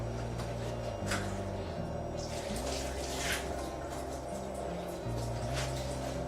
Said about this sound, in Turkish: İzninizle bir elimi yıkayacağım.